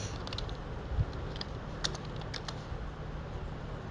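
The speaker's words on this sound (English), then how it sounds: "I wasn't looking at my screen, I was just typing." Quiet clicks of fingers typing on a computer keyboard, irregular keystrokes scattered over a soft background hum, with a couple of slightly heavier taps, and no voices.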